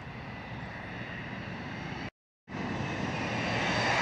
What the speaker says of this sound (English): we got American Airlines from Roanoke, Virginia, coming up next